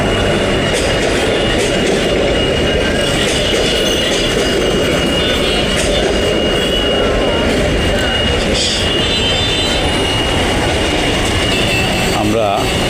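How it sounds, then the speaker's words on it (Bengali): A train rolls past the No. 2 railway level crossing in Narayanganj, Bangladesh, heading from the station: loud continuous rumble and rhythmic wheel clatter close by, with faint voices under it throughout. "নারায়ণগঞ্জ রেলওয়ে স্টেশন থেকে 2 নম্বর রেলগেট ক্রস করে ট্রেন চলে যাচ্ছে চাষাড়া"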